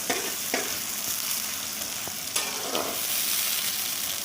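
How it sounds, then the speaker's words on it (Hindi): Onions frying in a pan for a home-style desi dish: a constant close sizzle broken by several sharp scraping stirs. "हमने इसके अंदर प्याज डाल दिए हैं, इनको हम हिलाएंगे"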